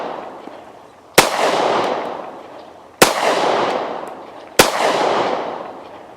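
Three loud, sharp gunshots from an Officer Model 1911 subcompact pistol with a 3-inch barrel, fired outdoors at a target, spaced a couple of seconds apart, each followed by a long rolling echo.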